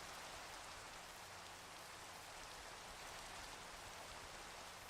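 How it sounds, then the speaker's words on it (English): Steady rain from the Minecraft video game, a constant even hiss of falling drops, quiet and unbroken with nothing else on top. "I need a data pack that just gets rid of rain."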